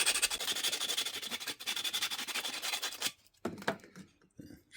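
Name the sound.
sanding copper wind chime tubes with sandpaper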